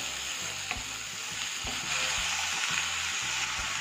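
Onion and tomato sauté together in a pan, a constant bright sizzle under repeated low rhythmic scraping and tapping strokes of a spoon, close and even, with nobody speaking.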